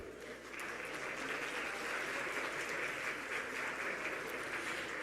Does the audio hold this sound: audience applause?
yes